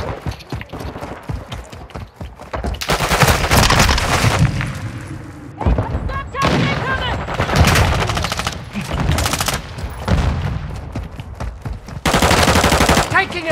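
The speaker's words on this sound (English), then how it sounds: "Taking effective fire!" Bursts of automatic gunfire in a Call of Duty MW2 team deathmatch on the Shoot House map, loud and close, coming in dense rattling volleys separated by brief lulls.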